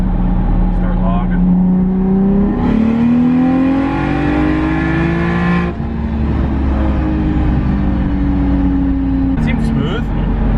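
A big-turbo BMW pulls hard in third gear, the engine note climbing steadily in pitch, breaking off with a shift or misfire, then climbing again, loud and close, with a misfire partway through.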